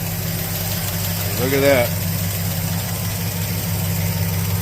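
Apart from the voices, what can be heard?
1968 GTO engine idling with clattering lifter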